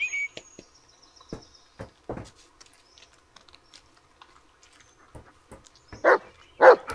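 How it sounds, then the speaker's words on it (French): A dog barks in the Blair Witch video game, with a few short barks and yaps scattered among soft clicks and rustles, two louder barks near the end. "Écoutez ces aboiements, soyez attentifs"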